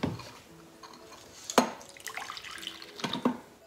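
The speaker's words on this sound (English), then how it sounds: "Okay, I'll put some more water." Water is poured into a cooking pot of potato curry, giving a short splashing and trickling sound with a few clinks of utensils, close and moderately quiet, with no talking.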